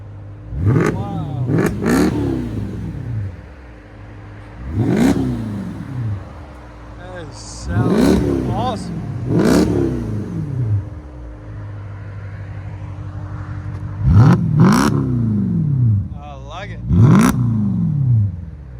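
A 2008 Mercedes S550 with a 5.5L V8 and straight-pipe exhaust revs repeatedly, with sharp loud blips rising and falling in a steady rhythm and brief pauses between them, while people talk nearby.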